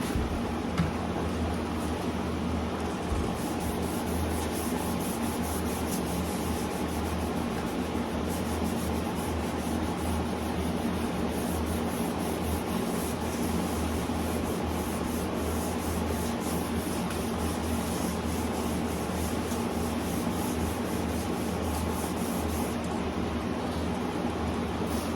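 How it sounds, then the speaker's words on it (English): Wet sanding of a 1985 Jeep CJ7 body panel with sandpaper lubricated by dish soap: a steady, continuous scrubbing rasp that runs close and unbroken throughout, with no talking. "That's a fancy way of saying it makes the sandpaper glide easier."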